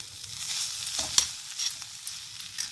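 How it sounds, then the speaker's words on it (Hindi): Masala for stuffed bitter gourd fries in a pan with a continuous soft sizzle, broken by a few scraping stirs of a spoon against the pan, heard close up with no talking. "देखिए मसाला हमारा अच्छे से भुन गया है।"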